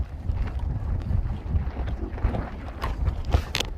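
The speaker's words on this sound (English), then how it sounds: "Okay, quite windy." Gusty wind buffets the microphone with low rumbling bursts, steady throughout, with faint creaks and knocks in the background.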